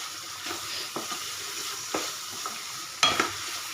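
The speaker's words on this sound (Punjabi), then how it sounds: "ਮਟਰ ਪਾ ਕੇ ਤਾਂ ਇਹਨਾਂ ਨੂੰ 1 ਮਿੰਟ ਲਈ ਸੇਕ ਲਗਾਵਾਵਾਂਗੇ" Green peas sizzle softly in a hot pan while a spoon stirs them now and then, scraping and clicking against the metal, and the frying hiss carries on steadily underneath.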